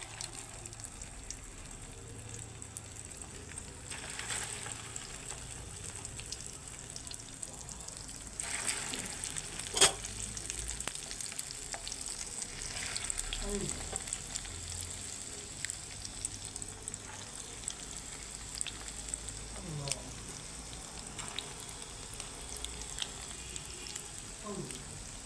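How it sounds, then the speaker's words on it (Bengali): Egg-coated tikki patties dropped into hot oil in a wok give a faint, continuous sizzle, with occasional clinks and a sharp knock partway through. "ডিমের কোট করে রাখা টিকিয়াগুলো এবারে তেলে দিয়ে"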